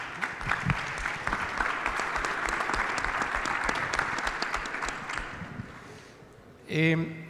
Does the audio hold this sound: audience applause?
yes